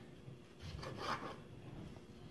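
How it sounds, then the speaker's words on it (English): A knife cuts open tomatoes for a Nigerian chicken stew, giving a short, soft, close slicing rasp that peaks briefly once, with no talking. "Just going to cut my tomatoes to make it easy for the blender."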